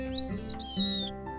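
Birds calling as they take flight from a tree, two clear rising-and-falling whistled tweets over a low steady hum, close and fairly loud, probably a voice or instrument imitating the birdsong.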